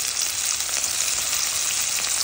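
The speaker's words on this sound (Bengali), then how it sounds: "পেঁয়াজ দিয়েছি, আর রসুন দিচ্ছি। এটা ভালো করে ভেজে নিতে হবে।" Chopped onion and garlic fry in hot oil in a pan, a steady close hiss and sizzle with faint crackles and no voices.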